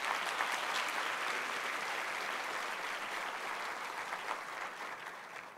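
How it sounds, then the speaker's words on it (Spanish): A church congregation claps during a Spanish-language sermon, a dense sustained round of applause that holds steady for several seconds before tapering slightly, with no speech over it. "Dale el aplauso al Señor."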